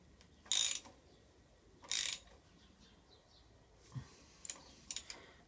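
A thread tap cutting into the spark plug hole of a Yamaha Virago engine gives two sharp ratcheting clicks, followed by softer, quieter clicks and ticks close up.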